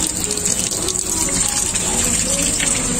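Water gushing steadily from a tap or pump while fish is washed for grilling outdoors, loud and continuous with a bright hiss, with brief voices in the background.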